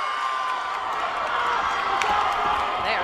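Crowd cheering and whooping at a high school state cheerleading competition in a gym, a steady loud wash of voices with scattered shouts and claps.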